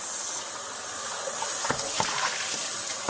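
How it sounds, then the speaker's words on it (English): Tap water runs in a steady hissing gush as a pet's feeding dish is rinsed under it, close and continuous, with a couple of faint clinks partway through. "And now I'm just going to give it a rinse,"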